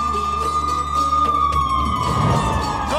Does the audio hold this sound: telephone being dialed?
no